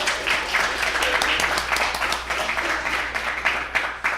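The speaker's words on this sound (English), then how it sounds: "give them a big round of applause." Applause from a literary event audience for the readers, a dense sustained patter of many hands with some sharper nearby claps, tapering slightly toward the end.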